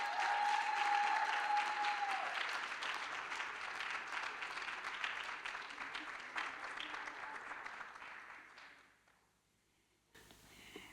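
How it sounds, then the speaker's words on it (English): An audience at a law students' awards dinner and gala gives a long round of applause, dense clapping that gradually thins and fades out after about nine seconds before the room goes quiet. "Please give her a round of applause."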